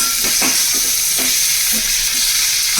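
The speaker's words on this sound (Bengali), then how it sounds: "ডুমো করে কেটে রাখা টমেটোগুলো দিয়ে দিলাম" Diced tomatoes fry in a pan with a loud, steady sizzle, punctuated by several rhythmic scraping strokes of a spatula stirring them close up.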